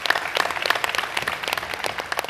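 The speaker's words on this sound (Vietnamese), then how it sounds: "tràng pháo tay 19 điểm." A television game-show studio audience breaks into applause, a dense burst of many hands clapping at close range that carries on for a couple of seconds.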